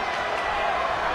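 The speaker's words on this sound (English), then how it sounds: "Would you listen to this crowd show their appreciation for these amazing competitors?" A wrestling arena crowd cheers and applauds in a steady, dense roar, sustained throughout the short moment with no clear break.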